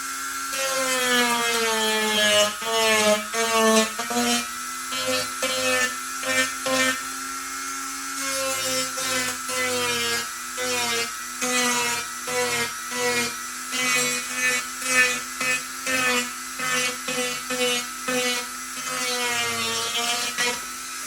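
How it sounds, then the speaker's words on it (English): A sanding drum working on a fibreglass engine cowl for a Flair DR1, grinding in short repeated passes with a steady whine that rises and dips as it bites, close and loud with no talk. "And now I'm going to go to sanding drum"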